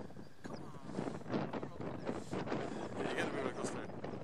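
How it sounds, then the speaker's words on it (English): Wind gusts across a hillside slope where radio-controlled gliders are flown, a steady rushing roar buffeting the microphone for a few seconds as voices talk faintly underneath. "you get a bit of a gust there"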